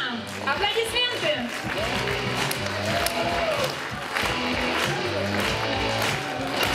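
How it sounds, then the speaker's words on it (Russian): An audience at an award ceremony claps for the winners, a steady spread of applause filling the room while an announcer's voice carries over it. "Аплодисменты."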